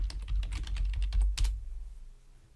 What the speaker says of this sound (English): I'll type in hair clip